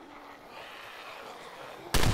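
After a quiet low hum, a single loud, sharp shot from a Kimber 1911 pistol bursts out at the very end.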